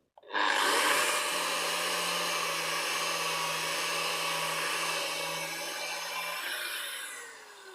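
A Norton Vortex Extra Coarse disc grinds scale off metal, a close, steady rushing abrasive roar with a low hum running underneath, starting sharply and easing slightly toward the end.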